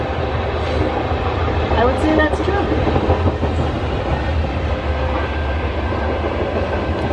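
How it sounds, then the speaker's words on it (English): A train rolls past near a wooded campground, a loud continuous rumble with rhythmic clatter of wheels on the rails and a brief metallic squeal, while someone speaks briefly over it. "All campgrounds have trains."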